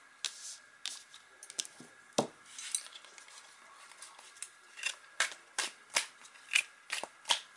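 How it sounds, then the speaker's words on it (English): Crisp papery riffles and flutters come in quick bursts with short gaps, sharper and more regular toward the end, close by with no talking. "Can you please stop jumping so I can shuffle these cards"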